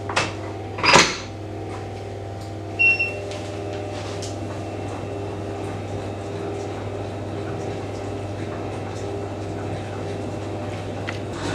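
An electric mixer whips cream cheese for coconut cookie dough, producing a steady motor hum with faint bowl clatter and a couple of sharp knocks early on, constant and close throughout.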